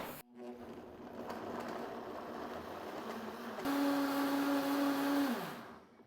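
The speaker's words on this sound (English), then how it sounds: "Let's blend it up" A blender purees a gingerbread smoothie made with cauliflower. The motor hums steadily at first, then surges to a louder, higher whir partway through, and it winds down at the end.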